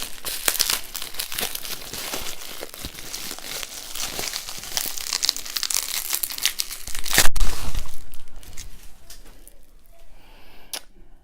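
Bath bomb packaging being torn open during an unboxing, with close, continuous crinkling and ripping of plastic wrap, sharp snaps and rustles building to a louder tear before fading.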